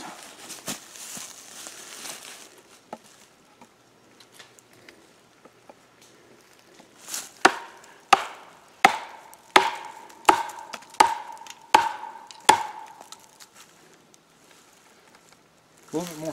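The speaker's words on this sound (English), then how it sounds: "So now we're going to baton this." A run of about eight sharp, evenly spaced knocks of a knife being batoned through wood, following a quieter stretch with faint handling noise.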